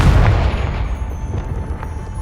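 A Confringo fire spell explodes in Hogwarts Legacy, a loud, deep boom with a rumbling tail that decays over two seconds, with faint game music tones above.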